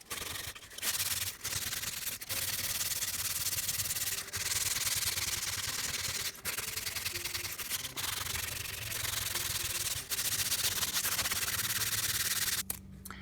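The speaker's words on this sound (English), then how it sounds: "after I sanded that first layer of epoxy down" Steady, continuous sanding rasps over a layer of epoxy on a micarta-wrapped Scout axe handle during restoration, loud and close with a few brief pauses in the stroke.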